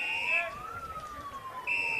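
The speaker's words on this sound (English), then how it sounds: "Yes, the siren's gone." End-of-game siren at an Australian football match, Nightcliff vs St Mary's in the NTFL Men's Premier League at PSC BM Oval, a steady high wailing tone that sounds, dips under crowd noise and returns, moderately loud.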